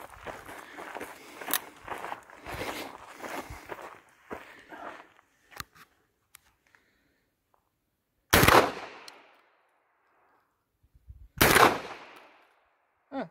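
A Dağlıoğlu FD 20 Kalashnikov-copy rifle fires outdoors at targets: a quick run of sharp shots, then two loud single reports echoing after long pauses, with scattered clicks between.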